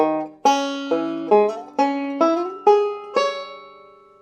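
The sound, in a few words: arpeggio played on classical banjo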